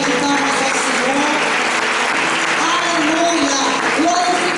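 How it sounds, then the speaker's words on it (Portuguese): A church congregation applauds in a loud, sustained wash of clapping at a worship service, with voices and singing mixed into the noise of the crowd. "Dê uma forte salva de palmas ao Senhor."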